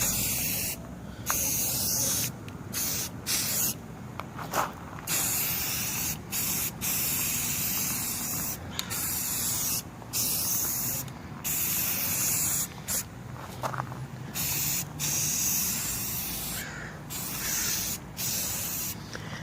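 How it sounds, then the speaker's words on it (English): An aerosol can sprays Rust-Oleum red oxide primer onto parts of a Honda EB2500 generator. The hiss is steady and close and continues through the whole stretch, broken by short pauses between passes. "I'm a big fan of Rust-Oleum. It's a red oxide primer."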